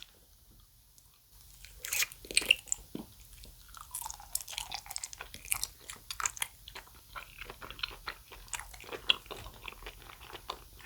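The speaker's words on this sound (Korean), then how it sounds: "그냥 한번 먹어볼게요" Close, crisp crunching and wet chewing of fermented skate skin jelly, with irregular bites and smacks repeating for about nine seconds after a quiet start, no speech.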